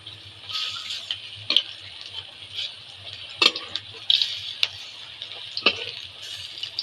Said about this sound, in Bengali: বাকি বড়াগুলোও ভেজে নেব।